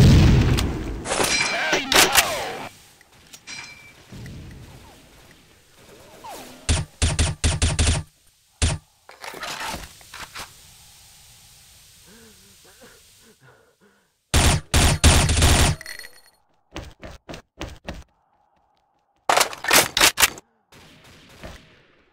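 Loud bursts of gunfire and booming explosions from a video game guild battle come in irregular clusters separated by near-silent gaps, with rapid automatic fire and heavy blasts, and players talk at times between them.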